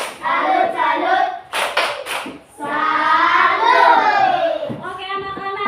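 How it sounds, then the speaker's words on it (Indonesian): Children in a Catholic religion class clap a rhythmic salute in short bursts, with their chanting voices running loudly between and around the claps. "Kita beri tepuk salut."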